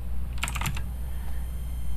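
Quick burst of typing on a computer keyboard, about half a dozen close, crisp key clicks in rapid succession over a steady low hum, then near silence.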